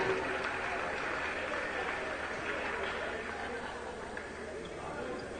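Sustained crowd applause and cheering in a high school basketball gym honoring senior players, a steady broad wash of clapping and chatter throughout.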